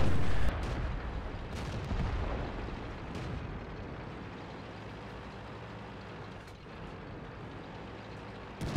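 Tank main gun firing in a tank battle video game: a single heavy boom at the start, followed by a steady low engine rumble.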